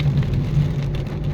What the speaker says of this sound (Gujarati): સાપુતારાના જંગલોમાં હાલ વરસાદ ચાલી રહ્યો